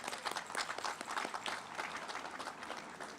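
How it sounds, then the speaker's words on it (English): Applause from an audience at a fire station open house honoring the Winston-Salem Fire Department, a steady wash of clapping at moderate distance, fairly soft and sustained throughout. "Can we please give them a round of applause?"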